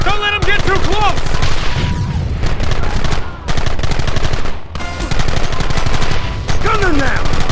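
Rapid gunfire rattles in the video game Red Dead Redemption, dense overlapping shots and bursts in a loud, continuous fusillade, with shouting voices mixed in.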